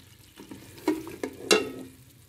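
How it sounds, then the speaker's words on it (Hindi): Quiet sizzling of chicken frying in a pan as whisked yogurt is stirred in, broken by a few sharp scraping strokes of a spoon, with no one speaking. "अब यह फेंटा हुआ दही डाल देंगे, जो कि 1/2 कप है। मिक्स कर लेंगे इसे।"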